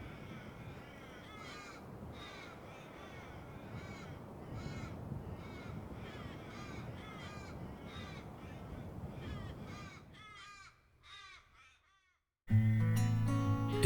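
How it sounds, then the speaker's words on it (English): Forest raven in spring bushland giving a long series of harsh, evenly spaced caws, fairly close and loud, calling repeatedly before fading and breaking off near the end, followed by a different abrupt burst of sound. "followed by a forest raven"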